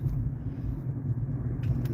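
Low rumbling car engine and road noise heard from inside a vehicle moving through Detroit traffic on a Saturday night, a steady close drone with no talk.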